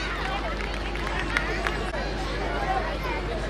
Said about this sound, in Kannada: ತಮ್ಮೆಲ್ಲರ ಒಂದು ಪ್ರೀತಿಯ ಚಪ್ಪಾಳೆ ಡಾಕ್ಟರ್ ಸಿದ್ದಪ್ಪ ಬಿದರಿಯವರಿಗೆ